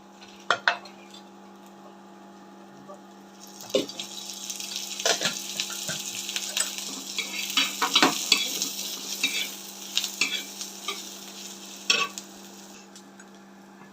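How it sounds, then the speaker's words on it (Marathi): Ginger and coriander roasting in oil in a pan for chole, with steady faint sizzling, scattered sharp clinks and scraping of stirring, and a few louder knocks near the start and end. "हे सगळं छान भाजून घ्यायचं। आता याच्यात थोडंसं तेल घालू।"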